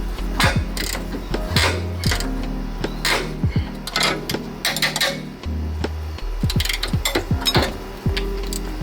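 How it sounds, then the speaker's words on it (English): A ratchet clicks rapidly in bursts while bolts are tightened on the upper control arm of a 2007 Kia Sorento, close and loud, with metallic clinks between strokes. "Now I'm just gonna tighten everything down."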